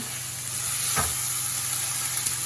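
Steak haché burgers fry on high heat in a pan, giving a steady, close sizzling hiss throughout with one brief sharper crackle partway through; no voices.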